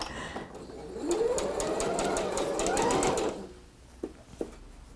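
Sewing machine stitching quilt fabric pieces together for a spool quilt block, a steady mechanical whir running for about two seconds at close range, with a couple of soft clicks once it stops.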